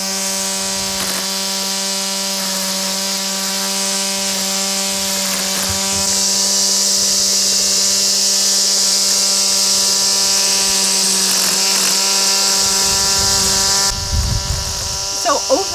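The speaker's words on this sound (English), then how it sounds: "This is one of the quieter string trimmers that we've tested as well" Steady, high-pitched motor whine of a Redback 120V cordless string trimmer running continuously, fairly close, with a brief pause and rustle near the end.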